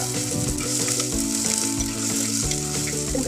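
Green chilies frying with onions in a pan for a sardine curry, producing a loud, dense, close sizzle with stirring scrapes and clatter throughout.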